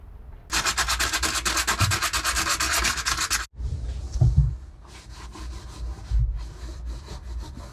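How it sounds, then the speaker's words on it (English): Hand sanding on a boat hull area being prepared for a resin repair: steady, loud back-and-forth rasping strokes for about three seconds, then softer, lighter scrubbing with brief pauses. "Now we're going to sand to prepare the area."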